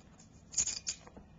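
Scissors snip through tape being applied to a tank, giving a brief, close, soft cutting sound with a couple of small crisp snips in a quiet room.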